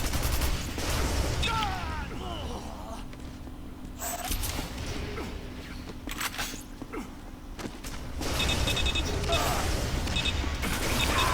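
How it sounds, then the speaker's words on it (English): Rocket launcher blasts and explosions in a Quake 4 multiplayer match, several bursts scattered through a busy stretch of game noise, with a voice talking over parts of it. "Some nice rockets from him there."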